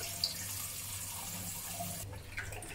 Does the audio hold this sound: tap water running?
yes